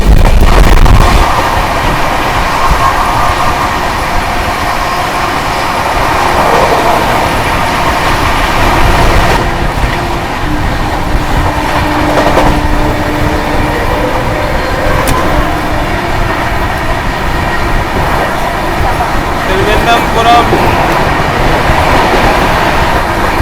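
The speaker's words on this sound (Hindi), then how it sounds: "रानी कमलावती वंदे भारत।" The Rani Kamlapati Vande Bharat express rushes past on the adjacent track, heard from aboard a moving train: a loud, continuous roar with rattling and clattering wheels throughout, broken by a sharp bang midway.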